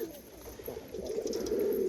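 A pigeon coos softly nearby, low throaty murmurs rising and repeating against a faint background hush.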